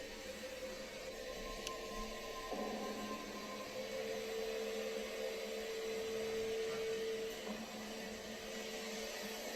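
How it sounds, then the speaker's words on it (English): Vacuum cleaner running on a hallway carpet at home, a steady, quiet motor whine and airflow hum with faint tonal shifts as it moves, continuous and alone without talk. "Martina is casually vacuuming the hallway carpet"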